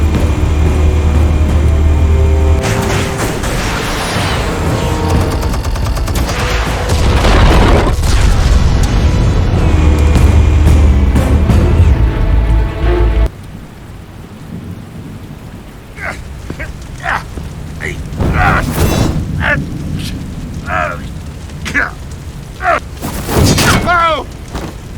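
Armed explosives detonate in Batman The Telltale Series, with heavy rumbling booms and a dense roaring wash, then a sudden drop to quieter crackling bursts with voices.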